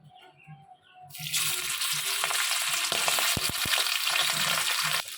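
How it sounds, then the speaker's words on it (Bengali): Small puti fish drop into hot oil in a wok, and a loud, steady sizzle bursts in after a quiet second and continues evenly, broken by a few sharp crackles. "এখন আমি এতে মাছগুলোকে ছাড়বো এক এক করে মাছগুলো ভেজে নেবো"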